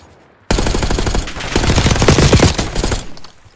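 Loud, close automatic gunfire in Call of Duty: Warzone bursts in suddenly as a rapid stream of shots that lasts nearly three seconds before cutting off.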